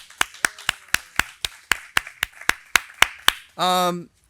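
A single pair of hands claps about a dozen times in a steady, slightly uneven rhythm, close and crisp in a quiet room, followed by a short burst of a buzzing, tonal voice-like sound.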